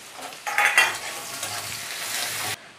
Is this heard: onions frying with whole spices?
yes